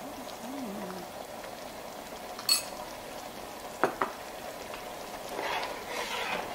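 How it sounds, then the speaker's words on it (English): Spoon stirring Nigerian egg stew in a pot, with a soft steady simmer and a few sharp scrapes and clinks of the utensil against the pan. "And then I'll stir and make sure that everything, all the ingredients, you know, mixes very well"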